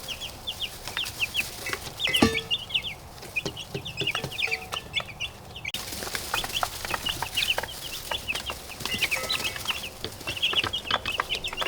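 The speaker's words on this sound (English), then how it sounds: "introduce you to the brand new batch of meat birds that we have for the spring season" A batch of young spring meat bird chicks clucks and peeps in a desert garden setting, many small overlapping calls in quick bursts, close and lively, with a sharp bump partway through and no talking.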